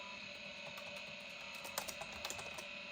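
Rapid, light key clatter from the worn keyboard of a WinBook 486C2SX-25C laptop, close and fairly quiet, with irregular bursts of clicks growing busier toward the end.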